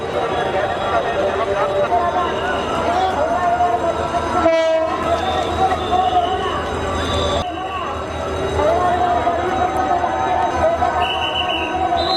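A train rumbles past loudly with a continuous blaring horn over the roar of the wheels, with a brief gap partway through, moments before slamming into a gas transport bus stuck on the tracks.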